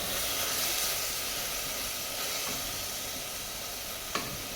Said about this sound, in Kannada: ಇನ್ನು ಇದನ್ನು ಚೆನ್ನಾಗಿ ಹುರಿಯೋಣ, ಯಾಕೆಂದರೆ ಇದರದ್ದು ಹಸಿ ವಾಸನೆ ಹೋಗುವ ತನಕ ಈ ಮಸಾಲೆಯನ್ನು ಚೆನ್ನಾಗಿ ಹುರಿಬೇಕು